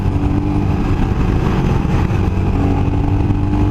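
A Royal Enfield motorcycle engine drones loudly and steadily up close on a mountain ride, holding high revs around 6,000 rpm in second gear with a constant buzzing tone.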